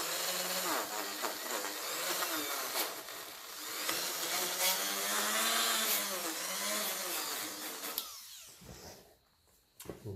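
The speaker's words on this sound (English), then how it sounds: "Final step of this is to hit it with a sandpaper" A tractor manifold from a 1954 Ferguson 20 TEF diesel is sanded, giving a steady, loud whirring abrasion for about eight seconds before it cuts off into near quiet.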